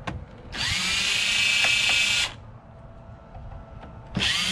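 A power drill backs screws out of a computer monitor's plastic housing, two loud close whirring bursts of about two seconds each, separated by a quiet gap with small clicks, no talk.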